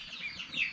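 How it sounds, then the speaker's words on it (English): Young chicks peep from a nearby brooder in a brief, faint, continuous high chirping. "I do also have chicks over in the brooder over there. Keep making all that noise."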